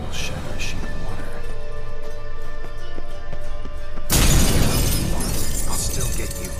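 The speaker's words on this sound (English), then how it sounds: "Wonder how you'll shatter a sheet of water." A mirror shatters in The Witcher 3, a sudden loud crash of breaking glass that bursts in after a stretch of quiet ambience and rings on for a couple of seconds.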